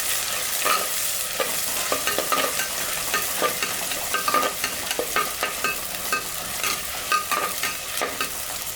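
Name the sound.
sautéing chopped onions in pan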